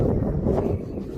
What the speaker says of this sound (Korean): 오 바람 좀 봐